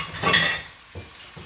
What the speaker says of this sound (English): I'm going to go ahead and put these pans in the sink